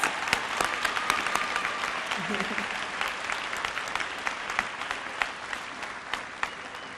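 Steady applause from an audience at a service awards ceremony, many hands clapping at once with scattered sharp claps, continuing evenly throughout.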